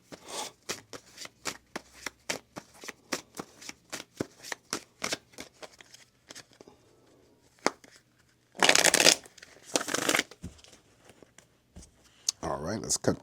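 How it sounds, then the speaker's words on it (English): A deck of tarot cards is shuffled repeatedly in quick riffling bursts, close and crisp, with a couple of louder, longer shuffles near the end; a person talks lightly alongside. "let's shuffle up the deck one more time and get a general read for all Gemini"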